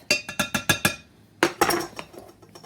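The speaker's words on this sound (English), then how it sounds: "Use our straight edge spatula to level it off." A metal measuring spoon of cornstarch is leveled with a straight-edge spatula: a quick run of five sharp metallic taps, a brief pause, then a few more clinks and scrapes close by.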